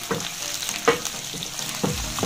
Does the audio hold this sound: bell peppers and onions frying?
yes